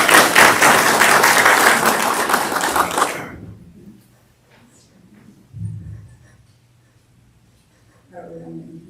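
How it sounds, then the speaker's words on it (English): A school governing board meeting audience gives a short round of clapping for the first speaker that fades out after about three seconds, followed by quiet room tone with faint shuffling and a brief murmur of voices. "I think we should back up and applaud our first speaker."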